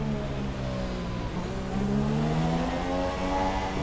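A Formula 1 race car in F1 2017 at the Monaco circuit, driven slowly back to the pits: a steady, moderately loud engine drone with gently shifting pitch and mild revving, heard alone without talk.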